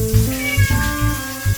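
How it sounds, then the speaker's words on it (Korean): A cat meows plaintively during a bath, several drawn-out, wavering cries in quick succession, loud and close with no talking. "도망갈 곳을 찾으며 한참이나 애처롭게 우는 쿠키를 보고 있자니"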